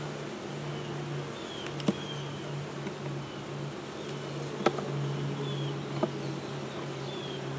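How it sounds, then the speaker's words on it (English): Steady low buzzing of many honeybees around a hive, close and continuous, with a few brief clicks and taps scattered through. "we got a lot of bees along the edge here."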